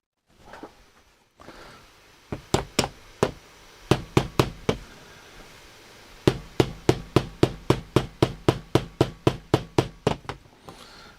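A hammer strikes hard again and again during work on a Hacker Marine Herald RP32 valve radio, with loud, sharp whacks coming in quick rhythmic bursts and separated by short pauses, close up and with no talk.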